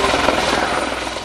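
A police helicopter flies close and loud, its rotor and engine making a steady, dense roar with a fast throbbing pulse throughout.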